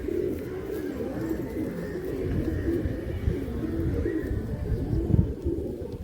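Pigeons of the famous Andhra breed in a loft give a steady, low murmur of cooing that runs the whole time, close and moderately loud, with a faint voice now and then underneath.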